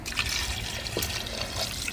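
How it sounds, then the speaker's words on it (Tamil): Water pours into a cooking pot of tinned fish curry with a soft, continuous splashing and trickling, close and fairly steady for a couple of seconds. "இனி இதோட தண்ணி சேர்க்குறேன்."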